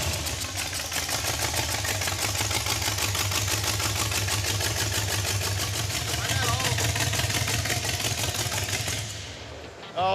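A 1950 Ford F6 dump truck engine idles low and steady with its valve covers off, a rapid even mechanical ticking and rumble throughout that drops away near the end.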